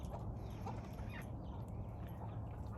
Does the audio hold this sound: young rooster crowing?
yes